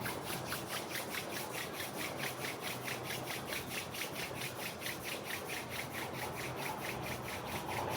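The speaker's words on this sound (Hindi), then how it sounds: "दोनों हाथ को ऊपर लेंगे और आपस में रगड़ेंगे।" Two hands rub briskly together during a meditation exercise, a steady, close, rhythmic swishing stroke repeated roughly three times a second without pause and with no voice.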